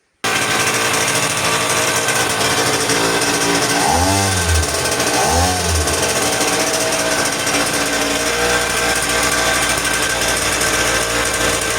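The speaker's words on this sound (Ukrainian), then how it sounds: "Зараз буду пробувати заводити." An old moped engine, just repaired, runs at a loud, steady buzz close by, with two rising and falling swoops of the revs partway through.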